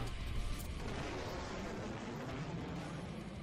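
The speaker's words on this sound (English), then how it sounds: "the bases also shoot some missiles" Missile fire in the space strategy game Sunrider: Mask of Arcadius, a dense, steady rumbling barrage of blasts with a sharper burst early on, loud and continuous with no voices.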